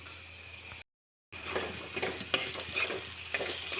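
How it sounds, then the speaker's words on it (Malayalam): Cooked horse gram tipped into a frying pan and stirred for a Kerala thoran, giving a steady close sizzle with scraping stir sounds and a brief gap of silence near the start. "വേവിച്ച് വെച്ചിരിക്കുന്ന മുതിര ഇട്ട് കൊടുക്കാം"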